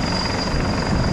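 A crew helicopter hovers close overhead above a ship, its rotor and engine making a loud, steady, dense roar with a faint high whine throughout.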